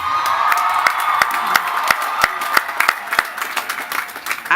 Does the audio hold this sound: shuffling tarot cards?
no